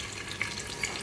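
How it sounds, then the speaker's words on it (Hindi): Soft, steady sizzling of ghee heating in a pressure cooker, quiet and even with a couple of faint pops. "मैंने अब डाल दिया कुकर में घी"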